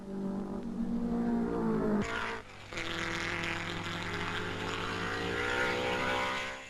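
1950s Grand Prix racing cars at the British Grand Prix, a Ferrari leading, engines droning loudly past with a sharp change in pitch midway, a continuous roar of several cars.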